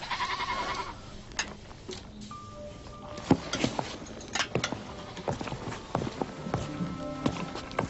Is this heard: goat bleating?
yes